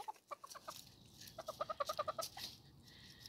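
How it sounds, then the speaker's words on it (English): Chickens cluck in a quick rhythmic run of soft notes, quiet and a little distant, with a few scattered clucks before and after. "I don't know about this rooster"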